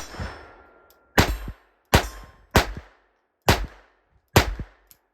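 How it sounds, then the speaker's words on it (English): A Charter Arms Police Bulldog .38 Special revolver fires five sharp, loud shots at irregular intervals outdoors in snow, each report followed by a ringing metallic clang from steel targets at about ten yards. "Now, I'm shooting at some steel targets."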